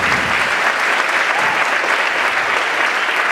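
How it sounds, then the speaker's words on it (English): Dense, steady applause fills a school hall after a spring instrumental concert, a large audience clapping loudly and continuously throughout. "let's give a huge round of applause for Sam Gleason putting this together."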